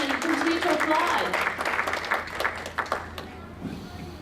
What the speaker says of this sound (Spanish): stand and continue to applaud